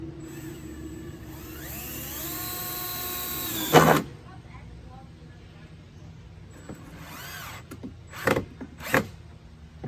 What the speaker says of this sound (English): So just screw that on in there.